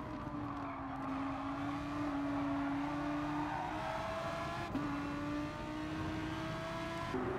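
Gr.3 race car engines in GT Sport at Autopolis International Racing Course, a continuous engine drone with rising pitch sweeps as gears change, a second car close behind, heard alone without talk.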